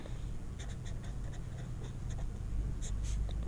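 Chalk or marker writes on a board during a class 10 maths lesson on Euclid's division algorithm. It makes faint, close scratching strokes in short bursts, with no voices over it.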